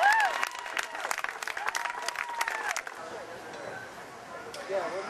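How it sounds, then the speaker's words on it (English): Comedy-show audience giving a round of applause, scattered claps with voices and cheers that fade out after a few seconds, leaving quieter murmuring talk. "Give him a round of applause"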